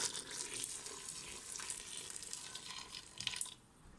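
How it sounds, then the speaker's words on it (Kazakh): Freshly boiled water streams over vegetables in a pot for lecho salad, a close, fizzing splash with small bubbling spurts that tapers off near the end, with no talking. "Міне осылай жаңа ғана қайнап жатқан ыстық суды үстіне құямын"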